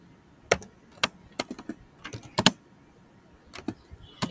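Keys clicking on a computer keyboard while someone types PHP code, in short uneven bursts of sharp taps with pauses between them, fairly close and fairly quiet, with no voice over them.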